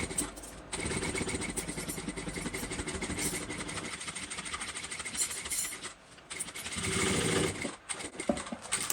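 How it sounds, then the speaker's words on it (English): Sewing machine stitching a bucket bag, running in a fast steady mechanical whir for several seconds, pausing briefly, then starting again with a rapid close needle patter. "So now that's all clipped, I can begin sewing."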